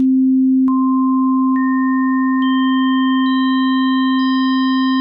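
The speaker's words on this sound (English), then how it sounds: "just adding harmonics at random and making a really weird dissonant chord" Pure sine tones stacked one by one, a steady low drone joined every second or so by a new higher harmonic, building a loud, sustained dissonant chord.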